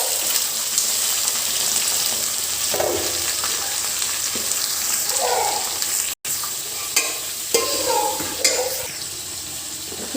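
Pumpkin pieces fry in hot oil in a pan, a steady loud sizzle with occasional stirring scrapes and clatters over it, no talking.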